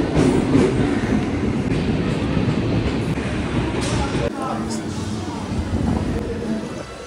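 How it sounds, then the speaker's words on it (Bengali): A local train entering a station, a loud, close, continuous rumble and clatter of wagons rolling along the rails that eases slightly toward the end. "ট্রেন ঢুকছে, লোকাল ট্রেন করে পৌঁছাই বালি স্টেশন।"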